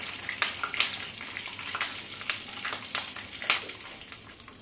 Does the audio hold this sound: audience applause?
no